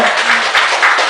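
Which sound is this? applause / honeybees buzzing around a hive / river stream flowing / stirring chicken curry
applause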